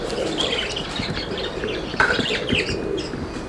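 A kit of sixteen roller pigeons flaps and calls, with fluttering wingbeats, soft coos and a few sharp chirps over a rustling outdoor background at moderate distance.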